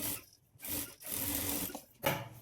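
A sewing machine stitching the sleeves onto a blouse, giving close, buzzy whirring runs of stitching broken by short stops, with a rasping texture.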